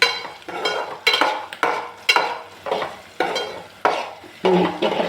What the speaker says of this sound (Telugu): పసుపు వేసినాక ఇప్పుడు ఫ్రై చేసుకున్నా